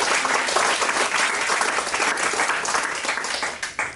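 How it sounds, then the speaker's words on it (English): An audience at a talk by a retired Army lieutenant general bursts into loud, sustained applause, a dense continuous roar of many hands clapping that tapers slightly at the end. "How about a big round of applause for the"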